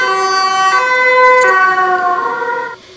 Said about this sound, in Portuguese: Olha agora, galerinha, o som dessa ambulância.